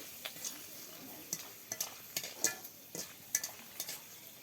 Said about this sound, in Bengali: এই পাপড়গুলো ভাজা হয়ে গেলে আমরা মুখে রানবো